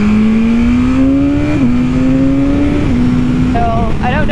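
A 2022 BMW S1000RR superbike switches on, with a steady electronic tone that steps in pitch and ends in rising beeps, heard close while a person speaks over it.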